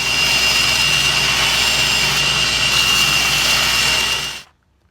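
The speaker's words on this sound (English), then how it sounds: "I'll cut them to length, shape them out on the grinder" A grinder runs steadily as it shapes wooden handles for a draw knife forged from an old file. The high, loud whine holds constant for about four seconds and then cuts off abruptly into silence.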